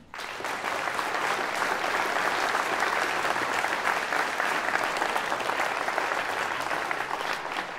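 A crowd at a final French campaign rally applauds a newly introduced candidate, the clapping thick and continuous, rising quickly after a brief start and holding at an even level to the end.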